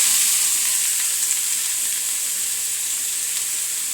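Bitter gourd tossed into a hot pan with mustard seeds, giving a loud steady sizzle and hiss of frying that holds evenly throughout with no voices.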